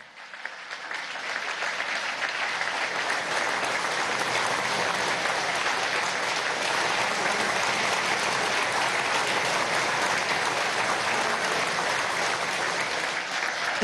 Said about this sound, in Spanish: A ellos un fuerte aplauso.